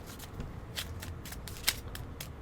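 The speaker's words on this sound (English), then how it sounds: "Give it shuffles." Playing cards being shuffled, a quick series of soft riffling bursts, close and quiet with no talking.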